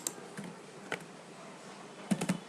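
A computer keyboard is tapped softly and sparsely while a name is typed, scattered faint key clicks with a quick cluster near the end, in a quiet room.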